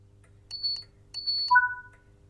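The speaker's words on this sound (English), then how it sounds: "The guard has given you the clearance for departure by giving you 2 audible beeps from the NHA guard compartment." Two short high electronic beeps from the guard compartment of a train in Train Sim World 5, clean and evenly spaced, followed by a lower two-tone reply beep over a quiet cab hum.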